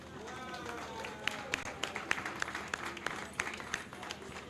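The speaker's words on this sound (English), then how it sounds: "Give a big, big round of applause to all of us." Crowd applause at an outdoor bank anniversary celebration with a police band, scattered claps fairly distant and moderate, with murmuring voices mixed in.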